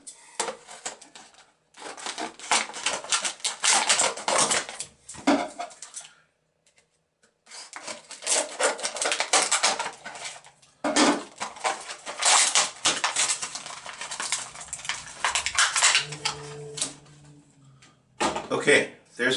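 Plastic blister packaging of a BB-8 LED nightlight being cut open with scissors, bursts of crinkling, snipping and rattling plastic separated by short pauses, close and loud, with a person talking at moments.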